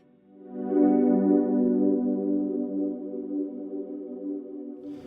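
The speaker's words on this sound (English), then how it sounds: "I really love having modulation effects after reverb that's really sitting in there, and it just gives like a really cool warbly sound to everything." A guitar runs through a Line 6 Helix with modulation placed after reverb, one sustained chord swelling in and hanging with a warbly, chorused shimmer that slowly fades, and no voices.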